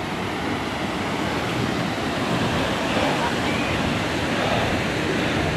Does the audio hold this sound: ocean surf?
yes